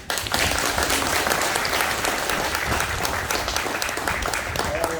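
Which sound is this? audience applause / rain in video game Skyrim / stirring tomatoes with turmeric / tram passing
audience applause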